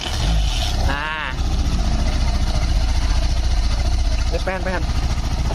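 A motorcycle engine, spared a full teardown after repair, runs at a steady idle with a rapid low throbbing, while someone talks over it and a higher whining note rises briefly twice.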